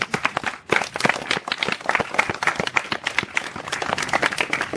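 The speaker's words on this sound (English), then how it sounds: "give these folks a huge round of applause" Audience applause at a conference wrap-up, a loud, fairly sparse crowd of individual hand claps with distinct sharp strikes, continuous and close, with only faint voices underneath.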